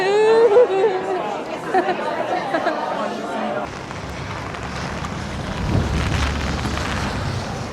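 Rain falls steadily outdoors with wind buffeting the microphone, first under chattering voices, then as a loud broadband wash of rain and gusts.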